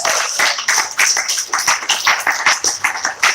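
A crowd applauds a speaker honoring warrior women, with dense, loud clapping in uneven bursts that swell and dip throughout, close and continuous with no voices on top.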